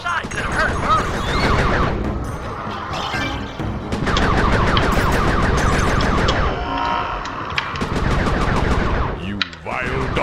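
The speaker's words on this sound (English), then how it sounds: "Be careful with those fireworks, Panda King." Rapid crackling bursts and popping fireworks explosions from the video game Sly 3: Honor Among Thieves fill the scene continuously, loud and dense, with shouting voices mixed into the chaos.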